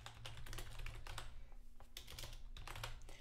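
A map name is typed on a computer keyboard, quiet clusters of key clicks in short uneven bursts with a brief pause in the middle, close and with no one speaking.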